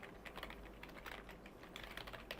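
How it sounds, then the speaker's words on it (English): Quiet, steady typing on a computer keyboard, with a continuous patter of soft key clicks and no talking. "Let me just type it here."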